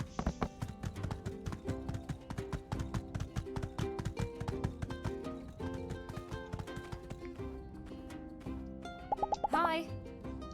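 Rapid rhythmic clip-clop of horse hooves in the video game My Time at Sandrock, steady trotting beats over gentle background music, ending with a short burst of chiming effects.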